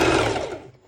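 A sewing machine running a straight stitch at the longest stitch length on stretchy leggings fabric, a short close whirring burst that winds down and stops.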